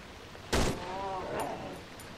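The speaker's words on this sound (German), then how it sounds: "ich schieß einen Schuss rein, ich habe keine Munition mehr" A single sharp gunshot in the horror game Cry of Fear cracks out mid-clip, followed by a faint ringing decay and low background ambience, fairly quiet overall.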